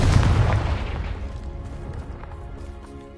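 A Confringo fire spell from Hogwarts Legacy bursts with a loud, close boom that rolls off into a decaying rumble over about three seconds.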